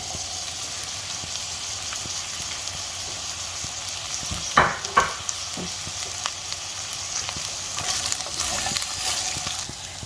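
Broccoli and cauliflower fry in a pan for chop suey, a continuous close hiss and crackle of hot oil with a couple of brief utensil clatters near the middle.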